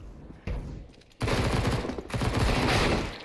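Desert Eagle pistol shots ring out in a first-person shooter game, loud cracking bursts of gunfire in quick succession with brief pauses between volleys.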